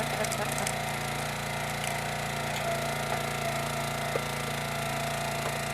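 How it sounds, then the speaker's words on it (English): A 25-ton kindling log splitter runs with a steady, dense mechanical hammering drone, constant and fairly loud, with a few faint knocks and muffled voices underneath. "The kindling splitter."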